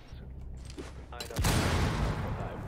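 Pistol gunfire in Rainbow Six Siege, a sudden loud burst of close shots after a stretch of quieter game ambience, with a noisy rumbling tail.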